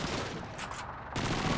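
Video game gunfire crackles in dense, loud volleys that run almost without pause, with one brief dip before the shooting surges again.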